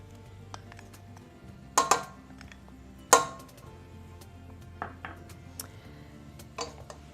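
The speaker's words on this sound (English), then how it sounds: "You need to give that a quick stir." Mushrooms, carrots and tomato paste are stirred in a pan for a shepherd's pie, giving a few sharp metallic clinks and taps of a utensil against the pan, spaced irregularly over a quiet background.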